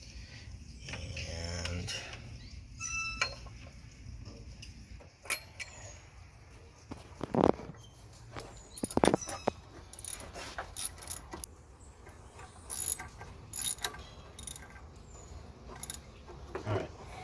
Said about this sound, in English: Now we're tightening this bad boy up.